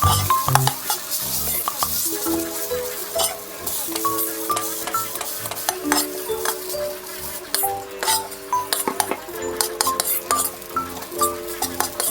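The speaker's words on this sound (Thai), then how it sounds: "เราก็จะนำข้าวมาผัดให้ เกิดความร้อนนะคะ" Rice stir-fried in a pan for a simple Thai chicken-and-spiced-rice dish, with steady scraping and clinking of a utensil against the pan over a soft sizzle, close and continuous with no talking.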